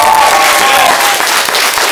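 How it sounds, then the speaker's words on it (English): Audience at a martial arts school belt ceremony applauds, a brief, steady burst of clapping from a small crowd, loud and close throughout. "So let's give him a big round of applause."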